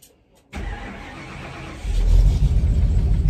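A bus engine starts up just after a motor swap with a short crank that catches into a steady idle, then rises into a louder, deeper rumble, close by with no talk.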